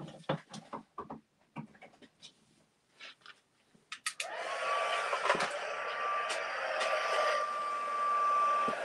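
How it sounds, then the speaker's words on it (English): A heat tool for paper crafting is switched on after several seconds of scattered small taps and handling clicks, then blows with a steady, loud, whirring hum that carries on to the end. "Let me just plug this heat tool in."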